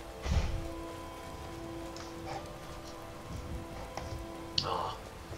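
Steady rain falling in Skyrim, a soft continuous patter with a few louder splashes or rumbles, fairly quiet and with no talk.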